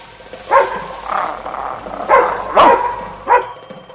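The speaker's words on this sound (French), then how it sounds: "Des chiens, toujours des chiens près des villages." Dogs barking near a village, about five sharp barks and yips spaced irregularly, fairly close, with a faint whine between them.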